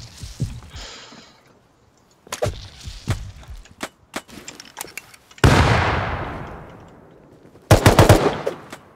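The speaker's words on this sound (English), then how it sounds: "It's an M249." An M249 machine gun fires in the Rust video game in several short bursts of sharp, loud shots, with scattered single cracks in between and a longer rolling burst of fire near the end; no one speaks.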